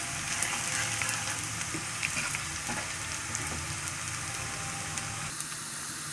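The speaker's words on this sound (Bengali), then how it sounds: "লবণটা দিয়ে পেঁয়াজটাকে ভাজলে পেঁয়াজ তাড়াতাড়ি বাদামি হয়ে যায়" Onions frying in a pan with salt for a chicken roast, a steady close sizzle and crackle with occasional stirring, no voices.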